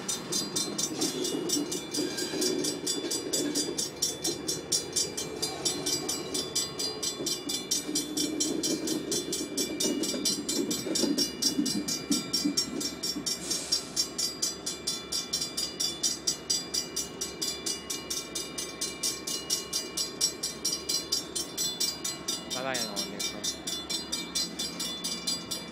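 Norfolk Southern freight locomotives 9300 and 6735 roll past with a steady, loud rumble and continuous rail clatter that holds throughout, with a brief squeal near the end.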